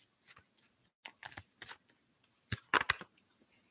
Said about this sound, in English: I know I'm over here shuffling them.